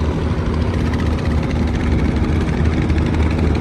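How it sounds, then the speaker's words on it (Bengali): A river launch, a passenger ferry departing Dhaka, gives off a loud, constant engine drone with a low throb and broad noise, unbroken throughout with no voices. "এই যে আমাদের লঞ্চ ছাড়িয়ে দিছে"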